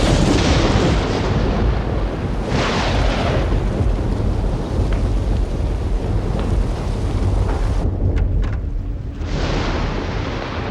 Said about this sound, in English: The damn electrical storm's knocked everything out of commission.